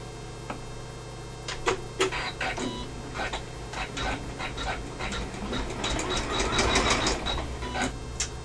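An embroidery machine stitches black thread onto black fabric for an in-the-hoop notebook cover with a zip pouch. A steady mechanical hum carries quick, irregular needle clicks and taps throughout, with no talking.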